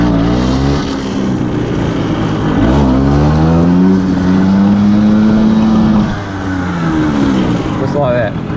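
A motorcycle engine revs up with the clutch in and the foot brake held, then the clutch is let out and it pulls away in a power wheelie, its pitch rising and holding steady, loud and close throughout.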